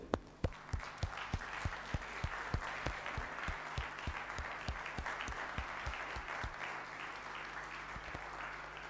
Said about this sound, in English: Can we all clap for the esteemed speakers that we have?